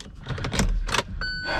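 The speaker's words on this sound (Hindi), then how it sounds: "जब आप गाड़ी अनलॉक करेंगे ORVMs अपने आप बंद हो जाएंगे, अनलॉक करने पे अपने आप ओपन भी हो जाएंगे।" Side mirrors on a 2021 Kia Sonet HTK+ fold automatically on locking, making a short burst of clicks and clunks followed by a brief, steady electric motor whir, close and clear.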